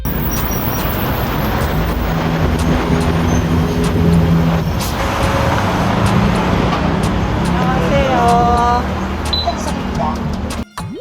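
Riding aboard a Gyeonggi province bus in South Korea: a steady engine and road rumble fills the cabin, with a brief hiss and rattles near the end, and people talk throughout.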